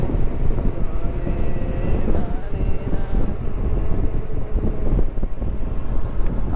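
Wind gusts through the forest around Edupayala temple as rain begins, a steady, loud rumble buffeting the microphone.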